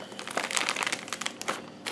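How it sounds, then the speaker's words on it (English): A plastic bag of homemade mocha drink mix with Nesquik being zipped shut, a close run of crinkling and rustling plastic with small clicks, no talking. "we're just going to zip this up."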